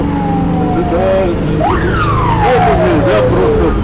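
An ambulance siren wails continuously as the crew races to an emergency call in Sochi, loud and close with rising and falling sweeps over steady road and engine noise.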